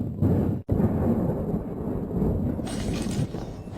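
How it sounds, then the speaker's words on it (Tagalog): Thick tempered glass windows on a building's second floor burst and fall, making a loud, continuous crashing roar with a brief break near the start. "Bumabagsak ang salamin."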